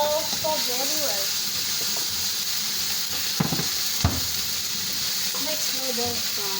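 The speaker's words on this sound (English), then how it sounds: "we put onion and فلفل and mixing very well" Onion and pepper frying and being stirred in a pan over low heat, a constant bright sizzle with occasional scraping clinks of the utensil, close and loud, with a voice talking over it at times.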